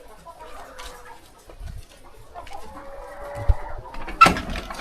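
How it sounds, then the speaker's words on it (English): Laying hens cluck and call inside a battery cage chicken coop on a layers farm, scattered calls building toward a louder burst near the end. "So I would want us to get inside the chicken coop."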